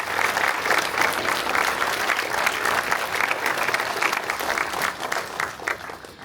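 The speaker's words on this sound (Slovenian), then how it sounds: "Še en aplavz za vse naše glasbenike." A village audience at a Statehood Day celebration in Dornberk applauds young musicians, loud and close, with clearly distinct individual claps pulsing through the crowd.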